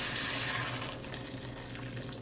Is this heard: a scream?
no